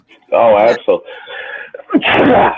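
A single sharp sneeze bursts out near the end, right after someone speaks briefly, close and loud.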